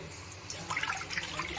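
Hot water pours into a ghee-greased kadai pan, a soft, steady liquid splash and trickle at close range with no talking.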